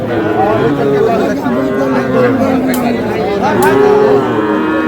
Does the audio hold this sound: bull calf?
yes